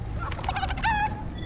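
A chicken in the video game Fortnite gives a short, quavering cluck-like call over low game background noise, with no talking.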